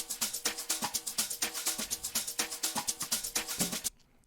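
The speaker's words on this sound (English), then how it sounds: "there are some drum loops, which are all from the pack, and they sound like this together" Busy layered tech house electronic drum loops pound out a fast, steady rhythm, loud and dense, then cut off abruptly near the end.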